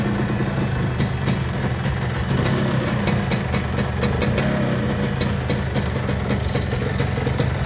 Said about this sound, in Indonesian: Masih halus sekali suara mesinnya. Knalpot juga masih bulat suaranya.